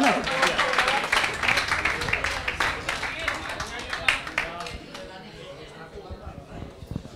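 An audience at an Xbox fan event applauds the winner of a Halo 5 tournament, with a burst of clapping that fades after a few seconds while voices chatter underneath.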